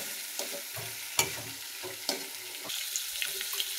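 Potato pieces frying in hot oil in a pan for a hilsa fish and potato curry, a steady sizzle broken by several sharp stirring scrapes and clatters, close up with no talking.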